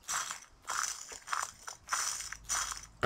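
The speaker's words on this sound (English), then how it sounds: "that sound of the ground crunching underneath your feet" Footsteps crunch over rough ground in the horror game Slender Man, a steady run of gritty, scraping crunches about twice a second, close and fairly loud, with no talking.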